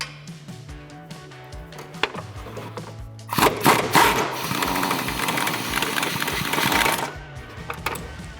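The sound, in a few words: 1/2-inch impact gun removing upper shock bolts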